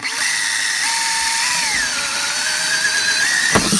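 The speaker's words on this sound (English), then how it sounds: "So now that we have the hole drilled," A power drill bores a hole for a homemade Zamboni, whining loud and close in one sustained run with a shifting pitch, then a sharp knock near the end.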